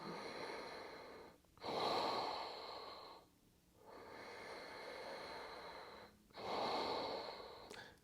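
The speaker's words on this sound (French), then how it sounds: "Une respiration profonde, importante dans cette pause." Deep breathing during a yoga pose, slow drawn-out inhales and exhales in long alternating waves of airy breath, close and fairly soft, with no talking.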